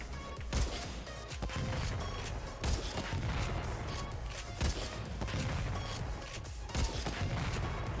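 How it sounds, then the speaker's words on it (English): Weapon fire and explosions in the video game Warframe boom like a cannon, several heavy blasts landing over a dense, continuous wash of game combat noise. "The explosion sounds like a cannon."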